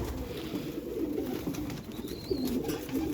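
Pigeons kept on a rooftop loft coo steadily throughout, a low continuous throaty murmur close by with several birds overlapping, plus a brief higher chirp partway through.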